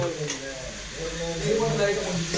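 Curd is poured into chicken curry masala in a hot pan and stirred, giving a steady close sizzle with soft scraping stir strokes and no talk.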